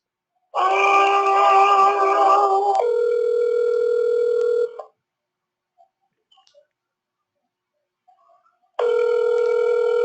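Telephone ringback tones on an outgoing sales call placed to leave a voicemail: a loud steady electronic ring for about four seconds, then near silence with faint clicks, then the ring starting again.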